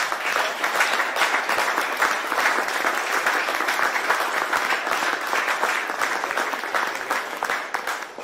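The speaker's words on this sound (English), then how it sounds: "Now, y'all need to clap one more time" Steady audience applause at a press conference announcing pay raises, dense continuous clapping from a crowd that holds at an even level before tapering slightly at the end.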